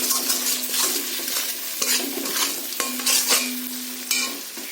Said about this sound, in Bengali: দেখতেই পাচ্ছেন মশলাটা ভালো করে কষানো হয়ে গেছে